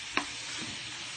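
Pork meat for sisig cooks in a pan with a constant soft sizzle, broken early by one sharp utensil scrape or knock, and no voices.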